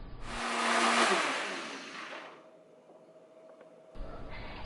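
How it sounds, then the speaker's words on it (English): Kitchen blender whirring through squash and glutinous rice flour: a loud, rushing motor roar that swells, then winds down to a low hum before a brief clatter at the end. "Blend it until the white flour is completely dissolved."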